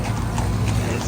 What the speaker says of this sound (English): Horses, horses, horses.